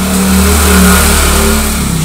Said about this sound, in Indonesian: ada motor nih